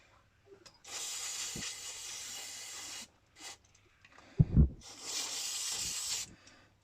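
Bike degreaser sprayed onto the gears of a Team Associated Rival MT10 RC truck differential: two long hissing aerosol bursts of about two seconds each, close and loud, with brief handling clatter between them.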